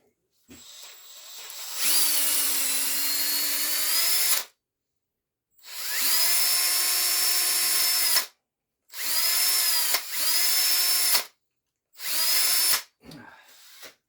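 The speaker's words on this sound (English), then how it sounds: "I just drilled a couple little holes thicker in where the flat plugs slots were" A power drill boring small holes into an electrical plug where its flat prong slots sit runs in four close, steady high-pitched whining bursts separated by brief pauses, loud and alone.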